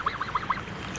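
A Canada goose gosling gives four short, bright calls in a quick series, fairly close and clear, with a quiet pause after them and no voices.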